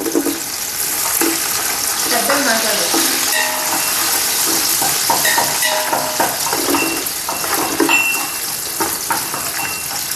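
Onion and green chillies fry in a pan for a village-style Andhra chicken biryani, giving a steady loud sizzle with scrapes and clinks of a stirring utensil against the pan throughout.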